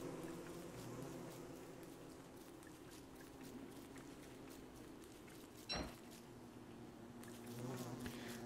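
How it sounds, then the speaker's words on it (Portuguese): A swarm of killer bees in the game Don't Starve Together makes a continuous droning buzz, steady and moderately close, with one brief sharp clack partway through and no talk. "Nossa senhora, veio 7 mil abelhas assassinas atrás de mim."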